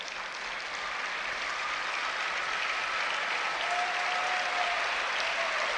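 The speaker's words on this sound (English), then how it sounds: "Headed to the bench is Rooks, the crowd giving a standing ovation" A basketball crowd at a Michigan vs. Wisconsin women's game rises in a standing ovation, sustained thick applause and cheering filling a large arena and growing slightly louder throughout.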